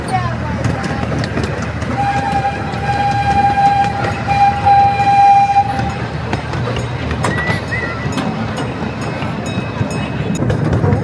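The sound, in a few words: amusement park train ride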